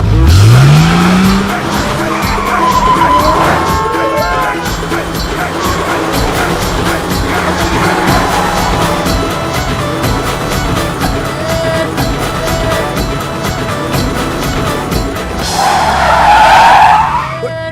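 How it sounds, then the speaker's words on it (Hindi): Car driving hard and skidding in a Hindi action film, an engine rising in pitch, then long tire squeals and screeching, with a final loud skid near the end. "आप गाड़ी बड़ी अच्छी चलाती है।"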